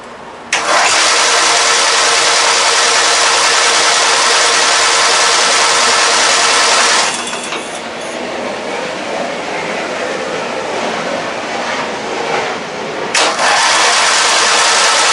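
A Briggs opposed-twin engine swapped into a tractor starts and roars loudly and steadily at close range for several seconds, then drops to a rougher, uneven idle before a brief surge near the end.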